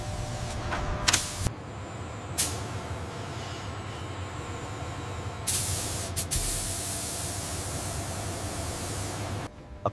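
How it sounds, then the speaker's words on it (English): Spray gun applying the base white coat to an Emirates Boeing 777 in a paint hangar, a steady broad hiss running throughout with several short louder bursts of spray; no talk. "The base white coat is applied."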